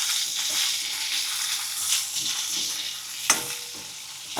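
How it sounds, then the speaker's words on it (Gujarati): Gunda sambharo, freshly tempered and salted, is stirred in a frying pan: a close, bright sizzle with scraping strokes of the spoon and one sharper knock, with no talking. "આવી રીતના આપણે હલાવતું રહેવાનું"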